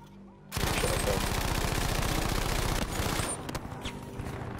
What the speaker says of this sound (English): He managed to spin and hip fire his Lewis gun into me